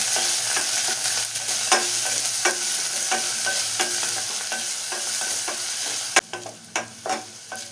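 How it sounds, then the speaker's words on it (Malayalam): Small onions and curry leaves fry in a pan as they are stirred, giving a continuous sizzle with regular spatula scrapes, then a sharper clank and a few louder stirs at the end. "ഇനി ഇതൊന്ന് ട്രാൻസ്പെറൻ്റായി വരുന്ന വരെ ഒന്ന് ഇളക്കിയെടുക്കണം."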